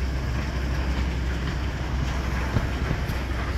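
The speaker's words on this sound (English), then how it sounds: "Just a loco going past with the bins." A locomotive rolls past hauling a string of bin wagons, a steady low rumble with wheel and wagon noise holding at moderate loudness throughout, outdoors with some wind.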